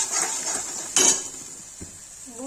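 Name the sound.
cinnamon paste with salt being stir-roasted in a pan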